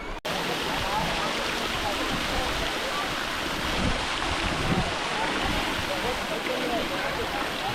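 Steady, dense rush of falling hot-spring water, loud and continuous throughout, cascading into a pool nearby on a mountain in Oman.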